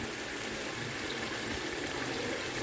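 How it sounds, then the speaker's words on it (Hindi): Water streams steadily into a pot of chana pulao with rice and whole green chillies, a continuous even pour that stays fairly loud and close throughout, with no talking over it. "पानी ऐड करूंगी मैं इसमें तकरीबन 7 गिलास"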